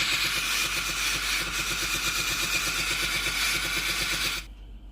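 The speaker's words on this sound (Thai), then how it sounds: "แล้วได้ยินเสียงไอ้น้ำออกนะครับ" Steam hisses out of a Philips GC7051 steam iron with a faulty water hose, a broad close hiss over the pump's pulsing buzz, holding steady for about four and a half seconds before cutting off sharply.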